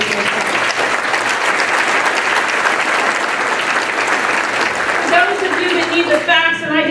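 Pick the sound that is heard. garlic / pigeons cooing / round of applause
round of applause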